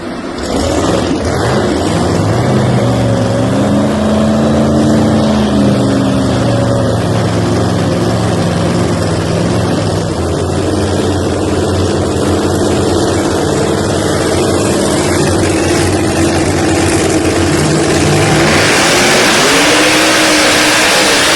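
Pro Nitrous drag racing car in the Screw Chargers machine roaring at a PDRA drag strip, a loud, sustained engine blast with shifting pitch that stays close and continuous throughout.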